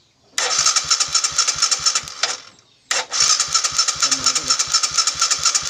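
A motorcycle fitted with a modified racing CDI starts up twice and runs with a loud, choppy idle. It cuts out briefly before restarting, while someone talks over the engine.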